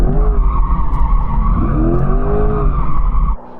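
A Corvette drifts with a loud, sustained tire squeal and skid over a roaring engine, its pitch wavering as the car slides, before cutting off abruptly near the end.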